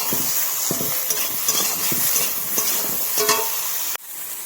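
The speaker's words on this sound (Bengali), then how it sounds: "ভালো করে বেগুনটাও ভেজে নেবো।" Eggplant frying with salt in a pan while a spatula stirs it, giving a steady sizzle broken by repeated scraping strokes, then a sudden cut to quieter frying near the end.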